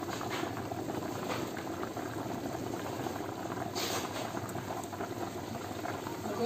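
A pot of egusi soup with meat bubbling as it cooks, a low, steady simmering burble with soft popping and light rattling, close but quiet and continuous.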